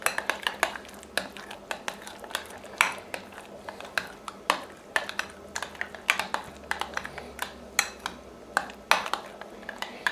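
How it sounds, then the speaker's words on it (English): A spoon stirring salad dressing or mayo with mustard, herbs and spices in a bowl for chicken salad, steady clinking and scraping taps against the dish repeated in an uneven rhythm, close up with no talk. "And just mix that up with the spices"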